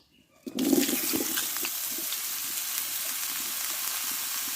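Hot oil with fried dry red chillies and bay leaf poured over cut mangoes for a sweet-sour jaggery mango pickle, a sudden loud burst of sizzling that settles into a steady hiss.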